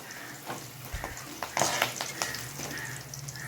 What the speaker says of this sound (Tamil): இப்போ நம்ம கடைசியாக கருவேப்பிலை ஒரு கொத்து சேர்த்து நல்லா ஃப்ரை பண்ணி எடுத்துக்கலாம்.